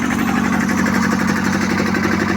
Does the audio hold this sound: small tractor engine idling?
yes